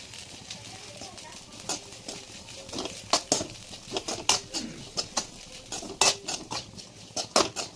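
A spatula clacks and scrapes repeatedly against a pan while stir-fried snake gourd is tossed with turmeric and chili powder; the strokes are irregular and close, over a low kitchen background.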